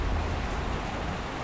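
Typhoon wind gusts and driving rain, a loud continuous roaring rush with heavy low rumble that stays fairly even, no voices.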